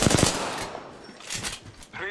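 Rapid bursts of automatic gunfire in the battle royale game Apex Legends, several sharp close shots at the start followed by further volleys and a fainter burst at the end.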